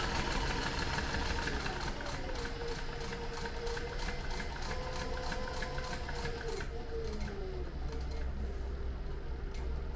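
Sewing machine stitching a leather zippered tote bag, a steady rapid mechanical ticking and whirring that runs continuously for several seconds and then eases slightly.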